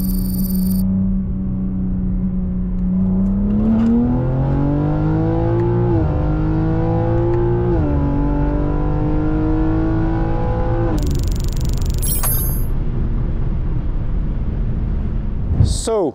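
A Stage 2 tuned BMW M3 G80 Competition making over 760 hp accelerates hard on the road. Its loud engine note climbs through a couple of gear shifts, then cuts off near the end.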